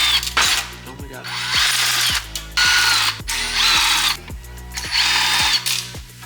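A power tool drives screws into the plastic dash of a Nissan Titan in several loud ratcheting bursts with pauses between them, and voices talk in the gaps.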